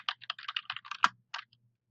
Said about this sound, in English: I'm just typing and listening, typing and listening. My hands are not moving off the keyboard.